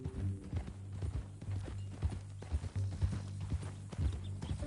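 Steady clip-clop of horse hooves walking at an even pace in the video game Red Dead Redemption 2, fairly close, over a low droning background with no speech.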